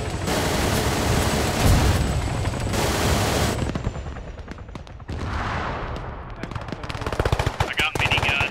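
Sustained roaring burst of minigun fire in Arma 3, loud and continuous, then breaking into shorter bursts and scattered gunshots with distant battle noise.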